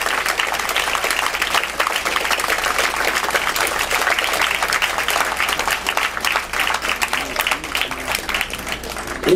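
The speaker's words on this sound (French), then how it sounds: "Madame, monsieur, David, Michel et Nestor, que l'on peut applaudir" Audience applause for a small group of performers at a shipboard show on a cruise, sustained dense clapping throughout, steady and fairly loud, with no voices over it.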